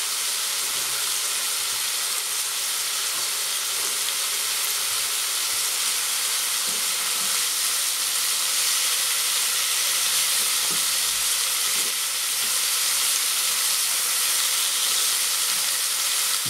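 Bacon sizzles in a pan with a continuous, loud, even hiss and crackle that holds steady throughout, with no voices.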